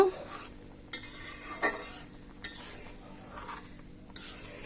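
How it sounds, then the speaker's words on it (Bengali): Lentil dal boiling in a pot being stirred, with soft scraping strokes and a few sharp utensil knocks against the pot over a low bubbling simmer, close and quiet, no voices. "এখন একটু নাড়াচাড়া করে দিব"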